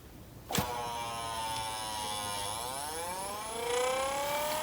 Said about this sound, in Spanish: Vamos a girar el motor.